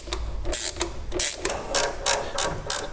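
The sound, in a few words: tightening an oil pressure fitting with a wrench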